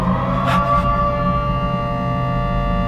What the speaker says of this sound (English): I can't stop them once the siren starts.